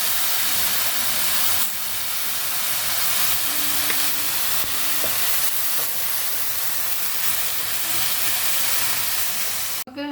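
Vegetables with salt sauté in a hot pan, giving a steady, close sizzling hiss that holds evenly throughout and ends with a short clatter.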